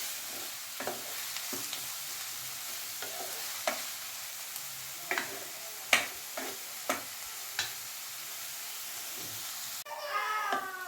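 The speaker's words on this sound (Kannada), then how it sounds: "ಇನ್ನು ಈರುಳ್ಳಿ ಚೆನ್ನಾಗೆ ಫ್ರೈ ಆಗಲಿ" Finely chopped onions fry in a pan for a green peas biryani and paneer masala, giving a steady soft sizzle broken by scattered spoon clicks and scrapes while stirring.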